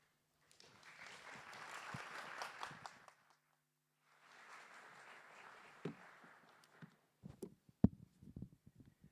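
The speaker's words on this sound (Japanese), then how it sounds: "どうぞ皆様盛大な拍手でお出迎えくださいませ。" An audience at the Non Fungible Tokyo 2023 main stage applauds to welcome a government minister, two soft bursts of clapping separated by a short pause, followed by scattered taps and handling noise.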